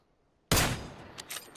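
Gunfire in a video game aimed at a bus's tyres, a sudden loud burst that cuts in from silence and decays over a second, followed by two or three further sharp reports.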